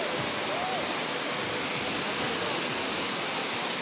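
Daranak Falls, a waterfall running with a weak summer flow, pours as a steady broadband rush of water, dense and unbroken, with faint crowd murmur mixed underneath.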